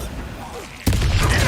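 A Bombarda blasting spell goes off in Hogwarts Legacy, one sudden loud burst that cuts in partway through and then holds as a dense, roaring wash of debris and rumble.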